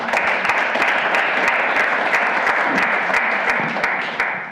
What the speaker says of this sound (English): So please give yourself a round of applause for completing that within less than a week.